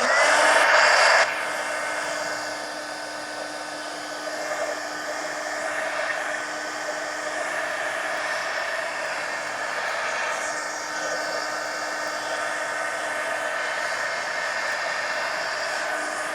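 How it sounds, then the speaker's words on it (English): A heat gun drying paint on a mixed-media journal page, a steady loud blowing whir that holds for the whole stretch after a brief louder burst at the start, with no talk. "let me hit this with a heat gun so that I can put another coat on"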